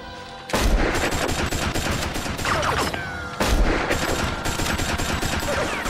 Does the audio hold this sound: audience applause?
no